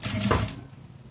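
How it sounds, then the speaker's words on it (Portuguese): A sewing machine stitches a cloth 3D face mask in one short, fast burst of run, about half a second long, that then stops and leaves low hum. "E vamos costurar de novo com menos de um pé de máquina."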